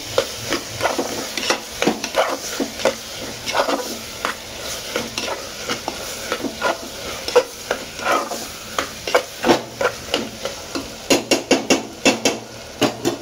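Dal being dry-roasted in a pan for khichdi, with a spoon stirring and scraping in a steady rhythm that speeds into rapid strokes near the end, over a light sizzle.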